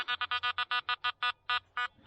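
A metal detector on a beach gives a rapid run of a dozen sharp, clear electronic beeps. They come fast at first and then space out, loud and close.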